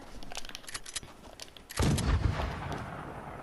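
A helicopter exploding in a shooter video game: a sudden heavy boom after a couple of seconds of quieter game noise, followed by a sustained loud rumbling roar, with no talking.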